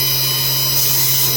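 Spindle of a 2019 Haas VF-2SS vertical machining center running at 8,000 rpm, heard from about 20 inches away as a steady high whine over a constant low hum, with no other sound.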